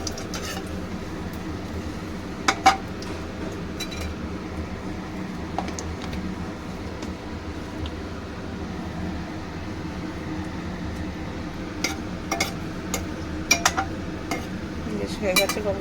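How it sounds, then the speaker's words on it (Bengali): A utensil stirs whole garam masala in a pan, with scattered metallic clinks and scrapes over a constant low background hiss. "একটু গরম মশলাটা নেড়ে ছেড়ে নেব।"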